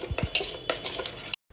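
A spoon scrapes and clinks against a bowl as dosa batter ground in a mixie is stirred, giving a few uneven close knocks and scrapes before it stops abruptly.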